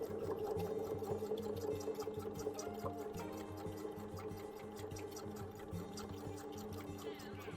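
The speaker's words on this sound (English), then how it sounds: "So we're going to start to sew." A sewing machine stitches leather onto a zipper, running steadily and fairly close with a fast, even mechanical whir and rhythmic needle ticking throughout, no voices.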